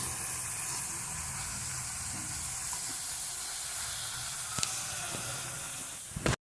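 Cauliflower paratha frying over low heat in a pan, giving a steady close sizzle and hiss that runs throughout, with a couple of brief clinks near the end.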